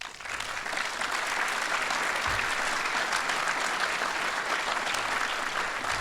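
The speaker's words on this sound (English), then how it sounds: "You're welcome to give yourself an applause" Sustained audience applause fills a building dedication ceremony at Regnier Hall, steady dense clapping at even loudness from start to finish.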